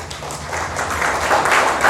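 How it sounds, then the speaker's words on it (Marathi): A crowd at a public speech bursts into applause, a dense wash of clapping that swells slightly louder toward the end. "टाळ्या."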